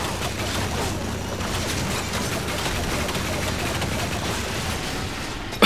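Sustained rapid gunfire from the video game Lost Planet, a dense continuous rattle of automatic shots that stays loud and steady throughout.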